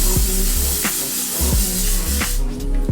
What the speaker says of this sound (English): So I'm just gonna get my hair out the way and spray my face.